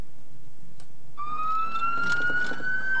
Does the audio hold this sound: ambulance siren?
yes